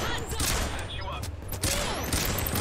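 Flashbang grenades going off during a police raid in Payday 2, a dense, continuous roar of bangs and gunfire-like bursts filling the whole stretch, with a voice talking underneath.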